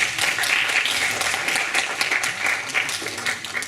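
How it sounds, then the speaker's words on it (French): A crowd at an eloquence contest applauds warmly, the clapping dense and slightly uneven in intensity, with a few louder individual claps standing out from the steady mass. "Je vous demanderai aussi d'applaudir."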